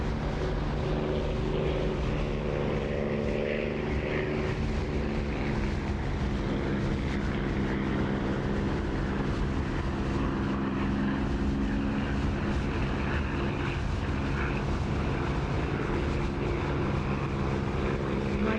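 Aircraft engine in a flight sim game droning steadily on landing approach with the canopy open, a constant loud propeller-like roar with a sustained tonal hum throughout.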